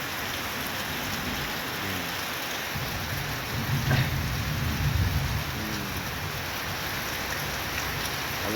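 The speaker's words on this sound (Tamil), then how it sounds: "ரொம்ப நாளுக்கு அப்புறம் பெய்யுது மழை." Steady rain falling outside after a long dry spell, a constant close hiss of drops on surfaces with a soft low rumble swelling briefly mid-way.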